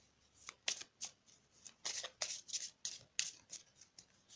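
Oracle cards being shuffled by hand, a run of crisp papery riffles and slaps in quick irregular bursts, close and fairly quiet with no talking.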